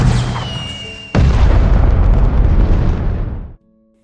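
A single firework bursts overhead with a sudden loud boom that rolls on as a dense rumble for a couple of seconds before cutting off, following a quieter whistling build-up.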